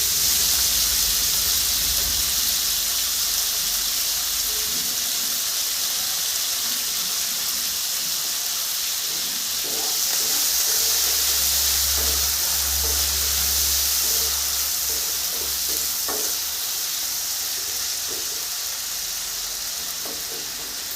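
Beans, cauliflower and carrot fry lightly in a pan for a mixed vegetable dish. A constant, loud, hissing sizzle holds throughout, with faint clinks and low rumbles underneath.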